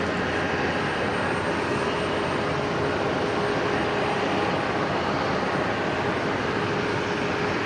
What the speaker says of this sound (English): Next arrival, Qantas 546, just coming in from Sydney, not too far out actually.